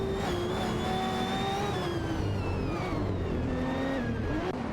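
Race car engines in an AI racing video game whine steadily at high revs, several cars layered together with pitch sliding up and down as they shift and pass, continuous and loud with no voices.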